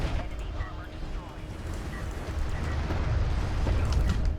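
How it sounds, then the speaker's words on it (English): Missile barrage explosions in a strategy video game, a dense rumbling low roar of overlapping blasts building in loudness, with no clear single impacts. "another attack missile barrage is going to land squarely on that BC and the sport cruiser"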